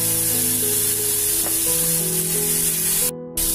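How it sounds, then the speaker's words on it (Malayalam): Beef cutlet mixture drying in a hot pan, a strong, close, continuous sizzle with some stirring scrapes, cutting out briefly near the end. "അപ്പം നമുക്ക് ഇതൊരു പാനിലേക്ക് നന്നായിട്ടൊന്ന് ഉണക്കിയെടുക്കാം."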